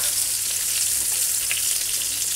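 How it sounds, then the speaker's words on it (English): Steady hissing sizzle of meatballs frying in oil in a fryer, even and continuous, with no talking. "Now, my balls have been frying here for a few minutes."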